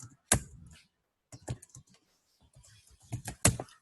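A computer keyboard is typed on in short, sharp bursts of keystrokes, separated by quiet pauses and close to the microphone.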